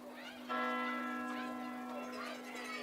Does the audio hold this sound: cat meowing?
no